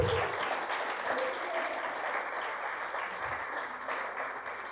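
Church congregation breaking into sustained applause, many people clapping in a thick, continuous roar with a slight swell early and a steady level after.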